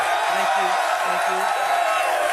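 A live studio audience at a sports talk show cheers and roars as a continuous, loud wash of crowd noise, with a low voice faintly underneath.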